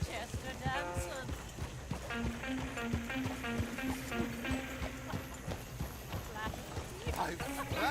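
A horse-drawn coach rolls along in Red Dead Redemption 2 with steady clip-clop hoofbeats and wheel rumble, while in-game characters talk over it throughout.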